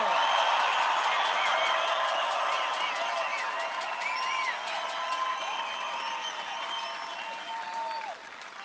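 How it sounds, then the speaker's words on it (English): A large outdoor rally crowd at an airport applauds veterans, sustained dense clapping with whistles and cheers that carries on steadily and slowly tapers off near the end. "I think we all should give them a tremendous round of applause."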